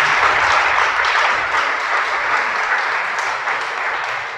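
Sustained, dense applause from a congregation at a Spanish-language religious gathering, steady and fairly loud throughout before easing slightly at the end.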